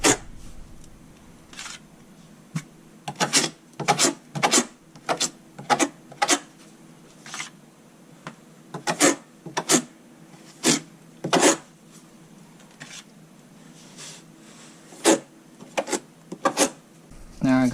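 A trowel spreads thinset over Schluter Kerdi waterproofing in a school bus conversion shower, with repeated short scraping strokes in an irregular rhythm, close and clear against a quiet background.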